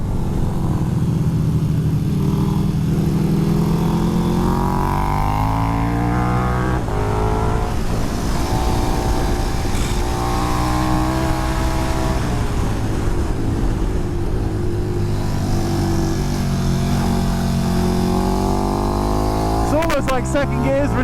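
A 2020 KTM 1290 Super Duke R is heard from onboard on a racetrack as its engine roars loudly and steadily, with the pitch climbing and shifting through the gears and heavy wind noise on top, and no clear speech.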